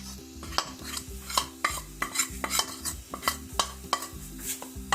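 Flour, salt and spices for samosa dough are mixed by hand in a bowl, producing close, rhythmic rubbing and scraping strokes with light clinks, about a dozen pulses in quick succession with no talking.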